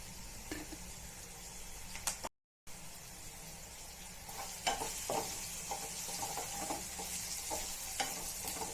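Chopped onion, with raw mango, sautés in a pan for masala potatoes and spinach dal, a continuous close sizzle broken by stirring scrapes and clatters and one brief silent gap, with no talking.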